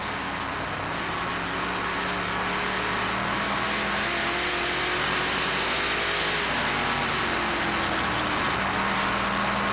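Dirt late model race cars roaring around a dirt track at a Lucas Oil Late Model Dirt Series race, a loud continuous engine drone with overlapping revs and pitch shifts as cars pass.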